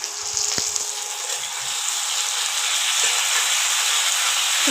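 Water poured into a hot pan of vegetables for a thin Bengali vegetable curry sets off a steady hiss and sizzle that swells and holds, close by, after a brief clink near the start.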